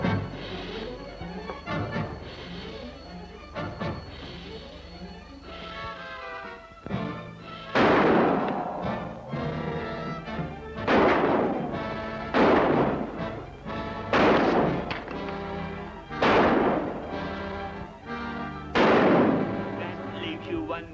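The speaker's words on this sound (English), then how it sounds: "That leaves you one more shot, Marvel." Gunshots ring out in a dark room during an old colorized serial, about seven loud, sharp reports in an uneven sequence after some opening dialogue and music.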